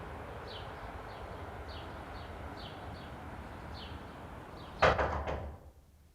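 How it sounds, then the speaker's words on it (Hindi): A door bangs shut nearby with a short rattling thud that quickly fades, after a stretch of steady background hum with faint chirps. "हमारे दरवाजे की आवाज है।"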